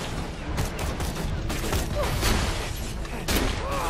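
Rapid gunfire in the shooter game Borderlands: The Pre-Sequel, dense and continuous with sharp bursts throughout, loud and close, mixed with other game effects.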